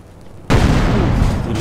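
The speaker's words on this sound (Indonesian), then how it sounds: "Meledak lagi." A vehicle blowing up in a video game: a sudden loud blast that cuts in sharply after a quiet moment and holds as a dense, noisy roar of fire and debris.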